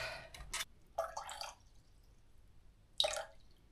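Water poured into a container on a kitchen scale while weighing out 482 grams for lye soap making, coming as a few soft splashing, dripping bursts separated by quiet gaps.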